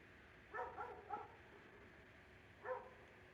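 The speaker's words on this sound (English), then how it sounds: "That's my neighbor's dog. They constantly are barking during the day." A neighbour's dog barks in the distance, a quick cluster of three barks followed by a single one after a pause, faint and alone over quiet room noise.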